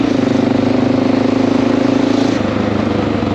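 A fuel-injected motorcycle engine runs loud and close, a steady rapid throb that holds even before easing slightly near the end, with no voices.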